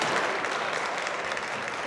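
Sustained applause from a partisan crowd at a New York squash tournament, a dense steady roar of clapping that fills the whole moment without a break.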